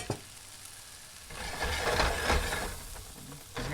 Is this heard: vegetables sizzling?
yes